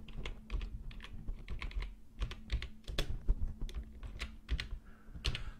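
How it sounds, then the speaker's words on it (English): Fingers type on a computer keyboard in brisk irregular bursts of close, crisp key clicks with short pauses between them, the keystrokes alone without talk. "this time, we're going to type in"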